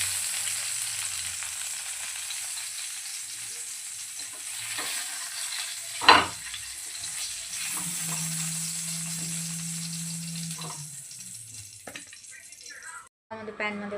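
Eggplant fries in a hot pan with a continuous sizzle, broken by a sharp clatter of stirring near the middle and a brief low hum later, before the frying cuts off near the end.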